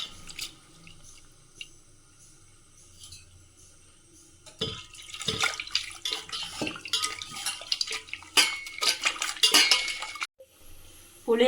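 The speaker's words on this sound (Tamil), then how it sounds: "நம்ம இனி புளி கரைக்கலாம்" Hands work tamarind in hot water in a home kitchen while making rasam, first quiet, then a busy run of wet squelching, sloshing and clinking against a vessel, close and irregular, ending in a short pause.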